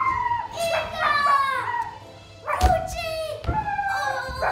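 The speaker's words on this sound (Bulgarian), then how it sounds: "Куче!" A dog in an animated story yips, barks and whimpers in short bursts, close and fairly loud, with childlike voices speaking around it.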